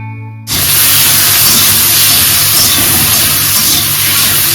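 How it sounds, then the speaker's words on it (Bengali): Potato, eggplant and cauliflower dropped into hot oil with five-spice in a kadai burst into a loud, sudden sizzle that starts abruptly after a brief pause and holds as a steady, close, roaring hiss to the end. "এখন কড়াতে একটু পাঁচফোড়ন দিয়েছি দিয়ে আর সবজিটা দিয়ে দিচ্ছি"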